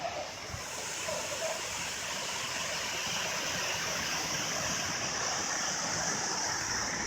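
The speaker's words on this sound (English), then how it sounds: "So here's the waterfall." A waterfall in Thailand roars as a continuous, broadband wash of falling water, steady and fairly close, with no voices over it.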